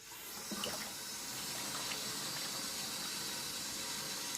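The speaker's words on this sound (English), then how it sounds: "Let's see if I can fill that with some water." Fresh water runs steadily into an open plastic bucket, a continuous close rushing and splashing fill with no one speaking.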